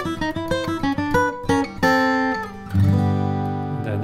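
A bluegrass lead guitar plays a quick D dominant lick, alone and close: bright plucked single notes in a rapid run that ends on a sustained ringing low chord.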